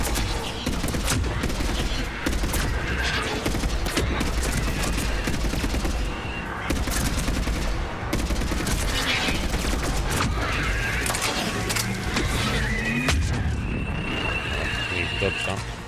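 Assault rifle gunfire in the video game Mass Effect 3, dense bursts of rapid shots and booms rattling nearly nonstop through a chaotic firefight, with a voice talking over it.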